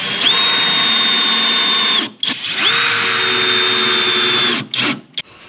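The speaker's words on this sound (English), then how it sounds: "I still have a few more screws to install" A power drill drives screws into metal ceiling box framing near a wood-burning stove install in a metal-roof home, two loud sustained whirring runs of about two seconds each, separated by a brief pause and ending with short bursts.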